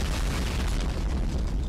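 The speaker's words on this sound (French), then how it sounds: "l'explosion du volcan" A deep, sustained rumbling roar of the Tonga volcano explosion in 2022, dense low-end energy with a hissing, crackling wash on top, steady and loud throughout.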